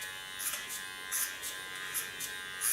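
Electric hair clipper buzzing close up while shaving the nape of a woman's neck, a steady thin hum with brief louder swells as the blades pass over hair.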